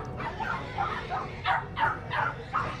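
A dog at the Lùng Phình highland market gives a string of short, close yips and whimpers in an uneven rhythm over a busy background murmur.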